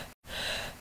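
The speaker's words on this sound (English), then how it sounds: "Because people sneeze." A single short sneeze from one person, a quick breath then a burst of air, close and alone.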